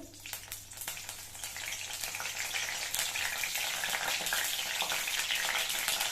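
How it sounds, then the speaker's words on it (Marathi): Curry leaves hit hot oil for a Maharashtrian dry surmai fish dish, erupting into a loud, dense sizzle that swells after the first second and stays strong, with light crackling and no voices. "तेल गरम झालेलं आहे तेलामध्ये कढीपत्ता घालायचा आहे"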